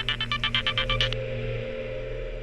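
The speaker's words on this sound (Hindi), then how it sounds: "एक मिनट, सुदेश का फोन है।" A phone ringtone chirps in quick repeated electronic pulses for about a second, then stops, leaving a low steady hum.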